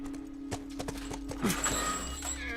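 Horse in The Last of Us video game, heard as a few hoof clip-clops and a brief snort or whinny over a steady low game drone, fairly faint and close.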